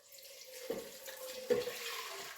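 Water is poured into a cooking pot to start a shiitake mushroom soup. It sounds as two short, close splashing pours over a soft running background, with no talk.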